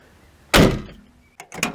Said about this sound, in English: So open the door.